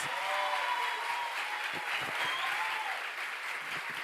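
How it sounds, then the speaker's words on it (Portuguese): A church congregation applauds a group of children, a loud, even roar of clapping sustained throughout, with faint murmurs and voices underneath. "Meus irmãos, vamos aplaudir mais uma vez essas crianças."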